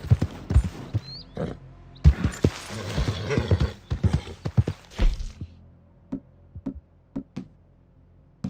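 Video game horse hooves clop loudly and irregularly, with a whinny, snorting and clattering at first, then easing into sparse, well-spaced hoofbeats over near-silence.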